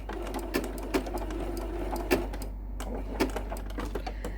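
A sewing machine stitches raw-edge appliqué around a curve, a close mechanical whir with brief pauses and a few sharp clicks as the fabric is turned.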